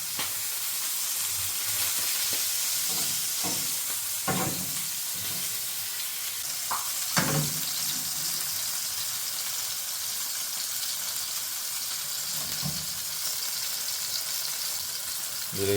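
Beef steak frying in a pan gives a faint, steady, hissing sizzle throughout, with a few soft knocks and clinks of utensils near the start.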